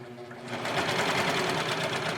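A serger overlocker runs steadily as it sews over a loose thread tail on a seam finish, a fast, even mechanical whir that starts after a brief quieter moment and carries on close and fairly loud.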